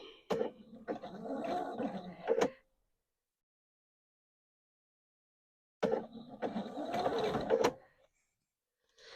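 Sewing machine with a quarter-inch foot stitching a seam on a Christmas pillow case for a quilting project, running in two short whirring bursts of about two seconds each separated by a few seconds of silence, close and moderately quiet.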